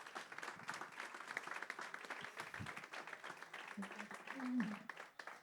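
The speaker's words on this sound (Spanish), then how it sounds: "Voy a pedir un aplauso para los tres ponentes, por favor" Applause from an audience thanking three panel speakers at a talk, a dense, steady patter of many hands held at moderate level for several seconds, with a brief voice surfacing near the end.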